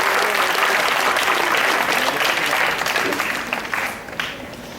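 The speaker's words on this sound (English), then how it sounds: "Can we give a big round of applause to her?" An audience gives a loud, dense round of applause for a participant at a live talk, sustained for several seconds before thinning and tapering off near the end.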